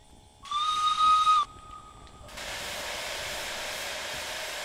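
Steam train whistle in the railway game Derail Valley gives one loud, steady blast of about a second, then trails off into a continuous hiss of escaping steam.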